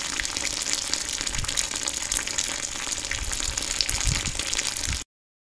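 Steady rushing gush of hot sparge water, around 77 degrees, pouring continuously into a beer mash, loud and close, with a broad hissing splash and no voices, ending abruptly.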